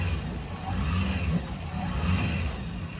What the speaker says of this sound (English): throw the lever forwards, and that allows you to rev the engine freely